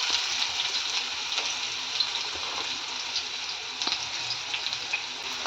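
Onions sizzling in hot oil in a pan while a soya chicken dish is cooked, a continuous close crackle with small pops and a few soft stirring clicks, and no talking.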